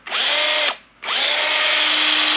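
Old DeWalt cordless drill on a dying battery, a loud, close motor whine that runs, cuts out briefly, then starts again and keeps going with a slightly strained, steady tone.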